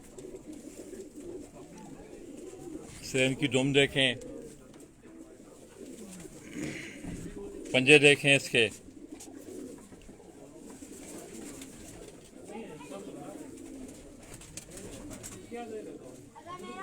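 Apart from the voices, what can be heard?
Teddy breed pigeons cooing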